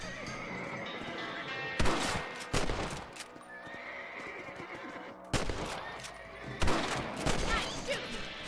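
Video game gunfire: several sharp, loud bursts of shots at irregular intervals, mixed with horse neighing and hoof sounds in the background.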